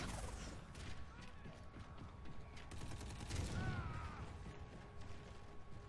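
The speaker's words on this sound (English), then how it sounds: "Pull out the submachine gun." Submachine gun fire in the shooter Call of Duty: Infinite Warfare on a snowy Permafrost map, a steady rattle of rapid shots with mechanical clatter running throughout, fairly quiet and dense with overlapping game noise.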